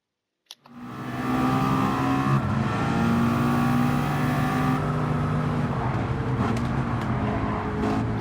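Racing cars roaring in Gran Turismo 7 as a driver is boxed in by a pack of bigger cars: after a click, a loud, sustained engine drone starts and holds steady with layered motor tones.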